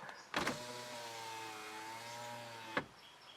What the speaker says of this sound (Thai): กดจากฝั่งคนขับให้ดูนะครับว่าจะออโต้ไหมนะครับ